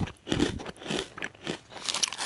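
Close, crisp crunching and chewing of mini pretzels flavoured with sour cream and chai, a steady run of crackly bites and mastication with no talking.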